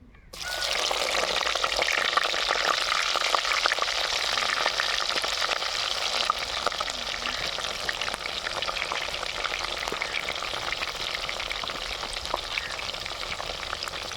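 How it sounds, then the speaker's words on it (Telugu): Chopped onion pieces frying in oil in a clay pot outdoors under a tree, a dense continuous sizzle starting abruptly and holding steady and fairly loud, with faint crackles throughout and no talk. "తరిగి పెట్టుకున్న ఎర్రగడ్డ ముక్కలు వేస్తున్నా"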